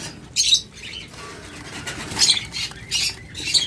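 Caged diamond doves at a bird sale, with close bursts of wing flapping and light pattering, plus soft chirps between them, with no talk.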